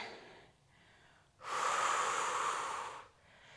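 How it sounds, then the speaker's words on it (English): Loud breath during a Pilates mat workout, a faint breath followed by one long, forceful exhale lasting about a second and a half, close to the microphone with no talking. "Breathing in through the nose and out through the mouth for 3 and 2 and 1."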